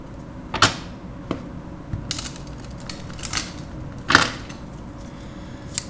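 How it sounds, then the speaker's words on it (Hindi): Tarot cards being shuffled by hand, giving a few quick riffling snaps and soft papery clicks at irregular intervals, close and fairly crisp, with no talking. "I will shuffle one more time."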